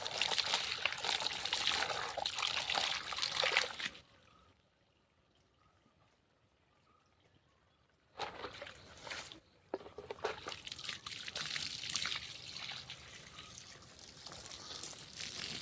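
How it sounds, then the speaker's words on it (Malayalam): Water is poured into a planting hole and stirred into the soil for transplanting spinach seedlings, a soft close trickle and sloshing, broken by a few seconds of near silence before the splashing resumes. "ഇനി ഇങ്ങനെ വെള്ളം നിറച്ച് ഇങ്ങനെ ഇളക്കി വെള്ളത്തോടെ നടണം."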